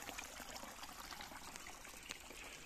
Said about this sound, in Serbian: Natočit ću vodu i nosim je za Beograd.